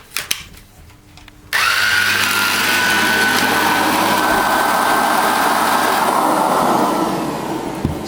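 An Electrolux Ultra Active vacuum powerhead, fitted with a new belt, starts up abruptly after a few light handling knocks and keeps running as a loud, steady motor whine and airflow roar, easing slightly near the end.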